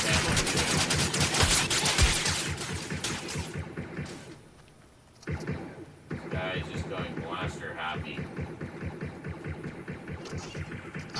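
Rapid, continuous automatic gunfire in a video game battle, a dense stream of loud shots for several seconds that drops out briefly before scattered firing and game noise resume, with some talk mixed in.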